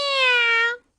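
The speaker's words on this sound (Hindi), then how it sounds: "बिल्ली यहाँ पर।" A single clear cat meow from an animated cartoon, close and loud, lasting under a second before falling silent.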